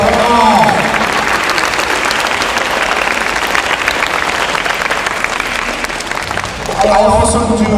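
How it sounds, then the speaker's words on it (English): Loud, dense clapping from a large crowd at a school awards night fills the space continuously, with voices and cheers rising briefly at the start and end. "Give your parents a huge round of applause"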